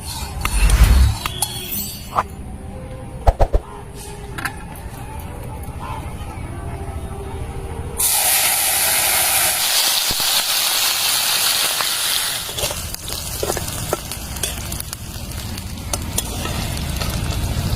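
Spices dropped one by one into hot oil left from frying fish sizzle sharply, with a burst of loud hissing that grows and holds steady, close up, with scattered clinks and voices underneath.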